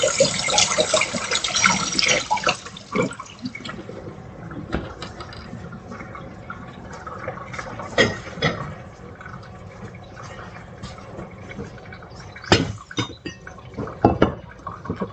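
Fresh strawberries are rinsed under running water, a steady splashing stream with scattered louder knocks and drips as the berries are handled, close and fairly loud.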